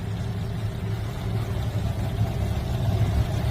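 A CF Moto 605 GT motorcycle engine runs steadily and close by, a low droning hum that builds slightly in loudness as the bike pulls away on a practice course, with no talk over it.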